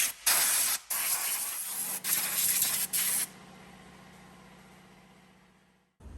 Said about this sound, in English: You often get a fair bit of dust that sits on the top of that intake manifold, so I just want to blow that off